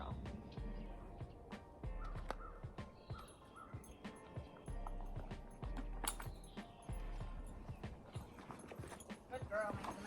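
A young horse in early training walks under a rider, its hooves thudding in a steady, close clip-clop rhythm while a person talks softly over it and a bird calls faintly.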